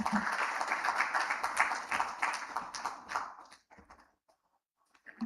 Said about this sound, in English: Let's give him a big, big round of applause for a great start of our event.